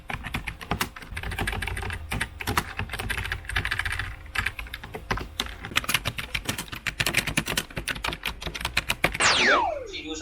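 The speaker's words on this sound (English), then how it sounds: "here's a bit of some typing ASMR" Rapid, steady typing on a computer keyboard clatters close up for about ten seconds, crisp individual key clicks running almost continuously with no voices.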